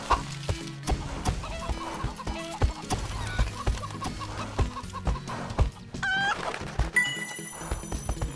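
Chickens cluck busily in the video game My Horse & Me, layered over clip-clopping hooves, occasional whinnies and bright game music and chimes in a lively, steady mix.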